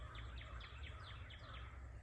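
A series of about eight quick, sharp descending chip notes from northern cardinals repeats at an even pace over a low steady background hum, moderately distant, in swampy woodland in western Maryland.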